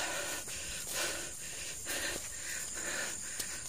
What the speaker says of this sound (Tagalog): pagpasensyahan nyo na at ako'y hingal na